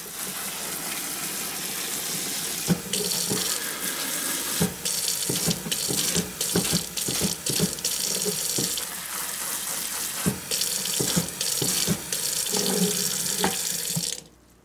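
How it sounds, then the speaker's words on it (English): Water from a tap or hose runs steadily onto freshly planted amaryllis bulbs in soil, a close, continuous splashing hiss with small irregular bursts, ending abruptly as the flow stops. "let me water these in now."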